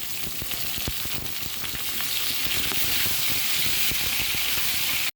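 Vegetables sizzle loudly in a pan of oil, already used to fry fish, with black cumin seeds tempered in it. The hiss is dense and steady, with small crackles and spatters throughout, close up and with no voices.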